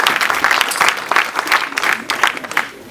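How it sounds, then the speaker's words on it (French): A church congregation applauding during a worship service, dense continuous clapping that swells and dips, close and loud throughout. "sous vos acclamations"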